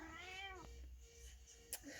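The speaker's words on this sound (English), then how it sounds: "My cat has just appeared." A pet cat gives one clear, fairly close meow indoors, a short rising-and-falling cry followed by faint room noise and a small click.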